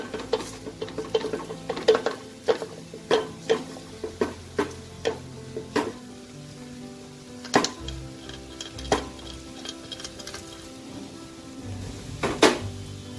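Soya bean chunks and fried rice stirred in a pan for soya bean pulao, with a steady run of scraping spoon strokes and light clinks against the pan under a faint background sizzle, no talking.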